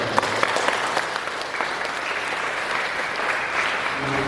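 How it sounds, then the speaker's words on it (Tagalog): Wedding guests applaud during a church ceremony, a loud, continuous wash of many hands clapping together throughout. "Palakpak natin ang Panginoon."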